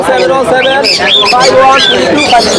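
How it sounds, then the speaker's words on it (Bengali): Many birds at the Mirpur-1 bird market in Dhaka chirp and tweet in quick, bright overlapping calls, close by and fairly loud, with people talking throughout. "প্রচুর পাখি আছে"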